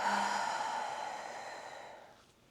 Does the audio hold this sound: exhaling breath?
yes